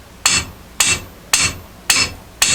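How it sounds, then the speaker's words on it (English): A hand hammer strikes steel during foundation shoring work on a historic home, landing five sharp, evenly spaced blows that ring briefly after each hit. "I don't much care for banging on the steel. Sometimes best just use an arm and a hammer."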